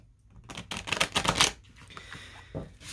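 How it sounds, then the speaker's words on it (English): A tarot card deck being shuffled, with bursts of riffling card flutter in quick rapid runs up close, loudest in the first half before settling into softer shuffling and a final brief riffle. "let's go ahead and shuffle these decks, or this deck"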